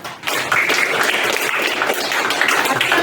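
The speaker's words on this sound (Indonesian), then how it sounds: "tepuk tangan dulu anak" Schoolchildren in a classroom lesson clapping together, a close, loud burst of steady applause that starts abruptly and continues throughout.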